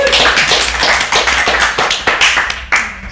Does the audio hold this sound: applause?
yes